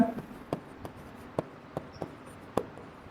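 Pen or marker writing during a Hindi-language accounting lecture on depreciation: a series of sharp, evenly spaced taps and strokes, close and fairly faint, with no speech over them.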